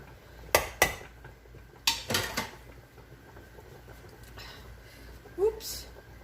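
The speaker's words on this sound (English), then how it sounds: "And now we're going to mix this really well." Ingredients for Dr. Pepper baked beans being mixed in a bowl, heard as sparse, sharp clinks and knocks of a utensil against the bowl, several spaced hits with quieter scraping between.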